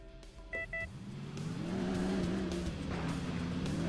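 A car pulling away to start a chase in the driving game Alarm für Cobra 11: Highway Nights, a few short electronic beeps first, then the engine revving up and sweeping in pitch as the car accelerates off.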